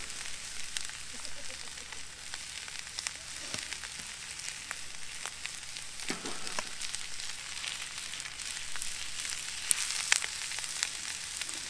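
Vegetables frying in ghee in a pan at a winter desert truck camp, a steady soft sizzle with faint crackles and a few clicks, close but quiet, with no talking.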